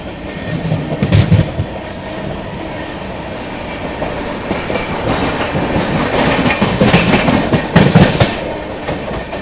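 The 12566 New Delhi–Darbhanga Bihar Sampark Kranti Express rushes past near Tundla Junction, loud rolling rumble with repeated clickety-clack bursts of wheels over rail joints and a steady roar throughout.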